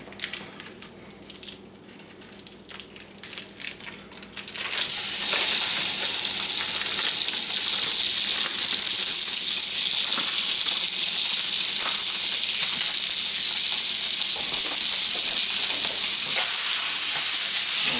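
A pound of pork sausage sizzles loudly in a hot pan, starting with lighter crackle and then bursting into a strong, steady fry that continues without a break.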